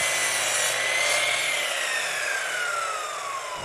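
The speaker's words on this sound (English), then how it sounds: "Now, with the miter saw set to a 45-degree angle," Miter saw set to a 45-degree angle cutting through wood boards, a loud close whining blade with the tone sliding down as it bites into the wood and winds down, no talking.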